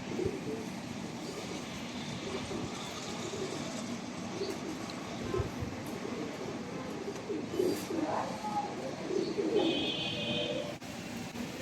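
Pigeons coo softly and steadily among the birds at a pigeon sale, a low continuous murmur of calls with a few brighter chirps near the end, against a faint background hum.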